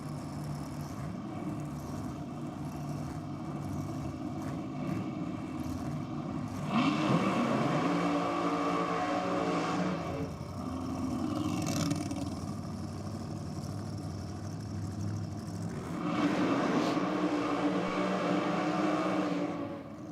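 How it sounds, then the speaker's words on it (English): Drag racing cars do burnouts at Sydney Dragway during the evening session of the NSW Championship, loud revving engines with screeching rear tyres rising in two long bursts, heard from trackside. "strong burnouts from both competitors there."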